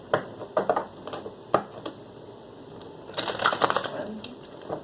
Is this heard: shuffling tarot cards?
yes